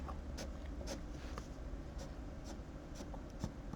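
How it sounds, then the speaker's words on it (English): A white fine liner marker scratches across paper in a run of short, quiet strokes, each a soft rasp, close up and with no one talking. "grab some white fine liner or marker and add some really deep shadows"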